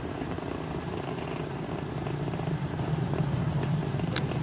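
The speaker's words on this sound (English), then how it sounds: "T plus 35 seconds into the Polaris Dawn mission, flying crew on board Dragon and Falcon 9 to new heights." A SpaceX Falcon 9 carrying a crewed Dragon on the Polaris Dawn launch is heard about 35 seconds into flight as a fairly faint, distant, broad rumble that builds slightly over time.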